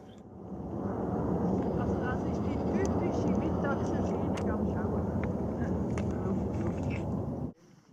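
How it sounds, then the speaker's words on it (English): A distant airplane drones steadily overhead for several seconds, a broad even rumble that cuts off abruptly near the end. "Only the plane's noises remind us here of our travels."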